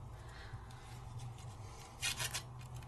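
Orange colored pencil being shaved against a small sheet of sandpaper from a Gamsol blending kit, a short burst of close, dry scratchy rasping strokes over a steady low hum.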